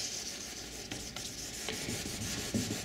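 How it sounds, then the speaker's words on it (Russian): Wet sanding of a car headlight lens with 2000-grit sandpaper under running water, a steady close scratchy rubbing with a few brief louder strokes, alone with no talk. "И убираем 2000-кой аккуратно пылиночки перед полировочкой."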